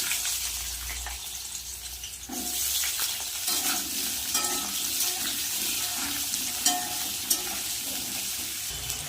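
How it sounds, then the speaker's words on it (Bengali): Cut potatoes fry with whole garam masala in a pan, giving a steady close sizzle broken by repeated scraping stirs of a spoon, with no talk. "আলুটা আমি আগে একটু লাল লাল করে ভেজে নেবো"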